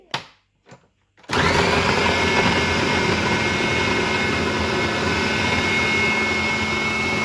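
Mixer grinder grinding green chili with oil starts after a few brief knocks, then runs as a loud, steady, close whirring roar to the end.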